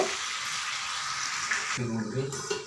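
Chicken feet curry sizzling and frying in a pan as it is stirred, a steady close hiss throughout with a heavier scraping stir near the end while someone speaks over it.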